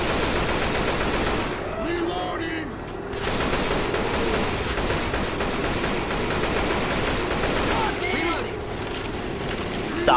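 Rapid bursts of AK rifle fire in Left 4 Dead 2 crackle loudly and almost continuously, thick and close, with a brief lull partway through and a voice talking over it.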